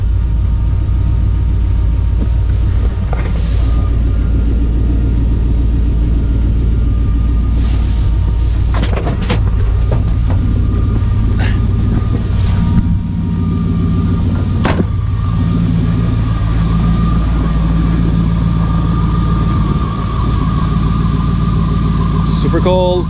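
An LS-swapped Chevrolet C10 truck engine idles steadily just after a cold start, a loud, close, continuous rumble with a few brief clicks and knocks over it.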